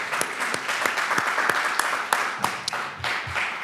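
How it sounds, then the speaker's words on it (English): An audience applauds the 2023 National Teacher of the Year at a panel event on U.S. math education. The clapping is dense and sustained and fills the room at close range. "If everyone could please join me in another round of applause for the 2023 National Teacher of the Year"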